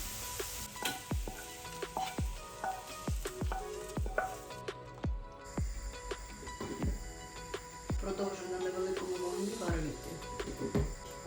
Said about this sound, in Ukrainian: Ось до такого стану протушую овочі.